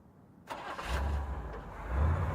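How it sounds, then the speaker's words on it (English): A car engine cranks and catches after a short pause, then settles into a low, steady rumble that swells slightly as it runs, heard close and alone. "Then a car starting."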